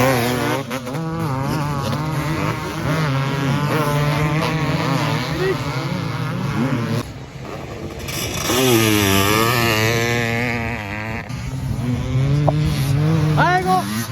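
A loud engine revs repeatedly nearby, its pitch climbing and falling through rising and easing throttle, with a steady idle between bursts and voices calling out over it.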